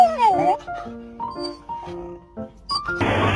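Rottweiler whimpering and yipping in short, high, whining bursts at close range, followed by a sudden loud noisy burst at the end.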